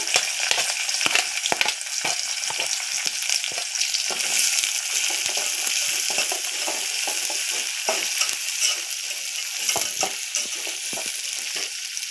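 Onion, curry leaves and chillies fry in a pan for upma, a loud, close sizzle broken by frequent scraping stirs of a spatula.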